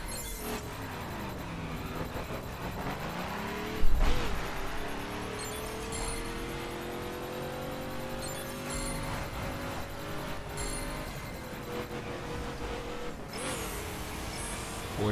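A Mazda Miata driven in the racing video game The Crew hums with a steady engine note that rises and falls through gear changes, with a brief thump partway through and no talking.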